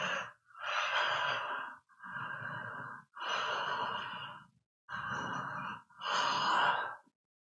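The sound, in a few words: deep breathing with mouth wide open, facial exercise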